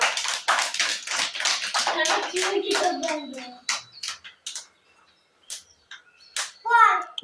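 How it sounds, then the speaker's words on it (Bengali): A group of young children clapping at a village preschool activity, a burst of quick uneven claps mixed with chattering children's voices, then scattered taps and a brief voice near the end. "হাততালি দাও,"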